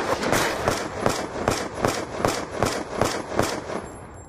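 Bursts of LMG fire in Black Ops 2, around ten evenly spaced loud rattling volleys in quick succession, close and alone, ending abruptly.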